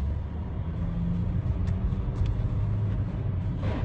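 A car's engine gives a steady low rumble with road noise while driving, continuous and fairly loud throughout, with no talking.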